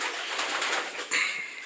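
Breeding pigeons coo inside a breeder loft, with soft overlapping calls and a brief rustle that may be wing movement, heard up close.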